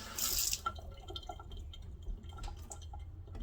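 A dripping kitchen sink faucet opens with a short splash of running water, followed by scattered faint drips and small watery taps in a quiet room.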